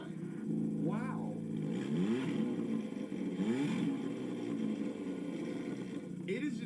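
A turbocharged Kia Soul fitted with nitrous revs in a few rising bursts, then settles back to a steady idle, heard at moderate distance under a continuous drone.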